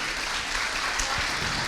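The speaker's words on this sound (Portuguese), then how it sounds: "Então eu queria que você desse um aplauso ao Senhor por esse povo aí." A church congregation applauds during a Sunday service, a steady, dense wash of clapping from many hands that holds evenly for the whole moment, with no talking over it.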